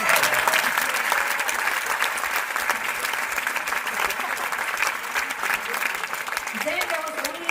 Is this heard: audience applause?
yes